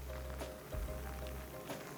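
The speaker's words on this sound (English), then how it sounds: "you can see now we're in a downpour" A heavy Florida downpour drums steadily on surfaces, a dense, continuous wash of rain noise at moderate level with no voices.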